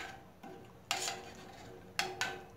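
Homemade cheese mixture with added salt is stirred in a pot, the spoon knocking and scraping against the metal in two sharp clatters between softer scrapes, with no talk.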